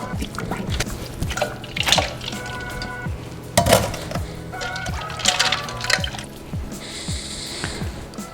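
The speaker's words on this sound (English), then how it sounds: "So now I'm in the process of squeezing all the water out" Blanched spinach squeezed by hand to press out water in a home kitchen, giving repeated wet drips and splashes with short squishy bursts, fairly close, in several separate rounds, with no one talking.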